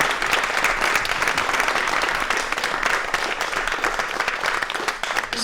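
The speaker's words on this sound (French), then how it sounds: "on peut applaudir nos invités parce qu'elles étaient merveilleuses" Dense, sustained applause from an audience for guests at a live French event. Many hands clap together in a loud, even wash that carries on throughout without a break.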